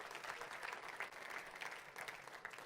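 Church congregation applauding together during a Spanish-language sermon, a steady wash of many hands clapping at moderate distance, sustained throughout without any speech over it.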